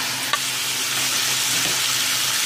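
Beef lungs and head meat frying in a pan with liver, giving a steady, dense sizzle that holds evenly throughout, with one brief sharp click near the start and no voices.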